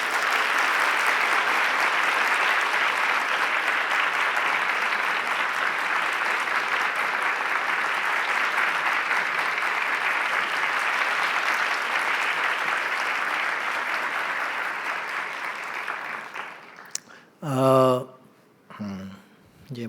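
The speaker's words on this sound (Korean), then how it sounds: "우리 박수로." A church youth congregation at a Sunday service claps in steady, dense applause for about sixteen seconds, which then fades as a voice begins speaking.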